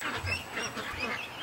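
Ducks quacking inside a barn, a few soft, rapid nasal quacks in quick succession, faint and close, with no talking.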